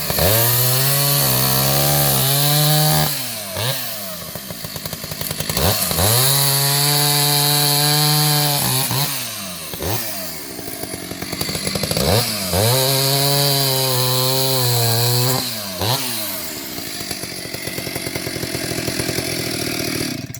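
Vintage Stihl 031 AV chainsaw cutting pieces of wood: loud, close engine revving up and bogging down through repeated cuts, with dropping pitch under load and brief returns to idle between passes.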